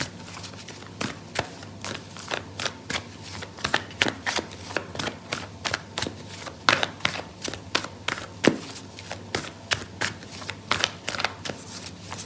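Oracle cards being shuffled by hand for a tarot-style reading, a steady run of close, crisp riffling and tapping bursts that repeat throughout with no talking.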